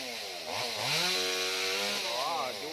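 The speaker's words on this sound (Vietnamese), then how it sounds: "Giờ chú cưa cái nhánh ngoài nha" A chainsaw cutting outer branches off a tree near power lines, its engine revving up and easing down in clear rising and falling pitch sweeps, close and loud, with no talk.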